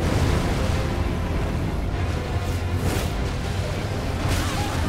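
A rumbling explosion from an attack in Elden Ring fills the whole stretch as a dense, roaring, continuous blast with layered crackles and whooshing bursts, heard without talk.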